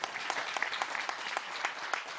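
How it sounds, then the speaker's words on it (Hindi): Scattered audience applause during an afternoon Jain religious discourse by Acharya Vidyasagar at Siddhodaya Siddhakshetra, a modest, uneven patter of hands that stays fairly quiet and thin throughout. "तालियां बजा दी"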